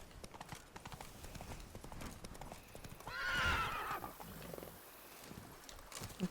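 Roach, a horse in The Witcher 3 video game, gives a short whinny mid-clip over quiet clip-clop hoofbeats and game ambience, faint overall.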